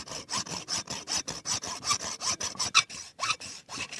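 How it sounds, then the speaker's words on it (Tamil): Hacksaw blade cutting through a beef marrow bone in a village kitchen, with steady rhythmic back-and-forth strokes, about ten close, rasping passes in a row with no talking. "நல்லியை ரெண்டா வெட்டி எடுத்துடலாம் ரொம்ப ஸ்ட்ராங்கா இருக்குப்பா"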